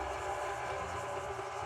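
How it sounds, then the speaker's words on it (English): An electric mixer beating batter for peanut butter and jelly bars hums in a steady, continuous drone, faint and unbroken throughout with no talking. "While our mixer is running"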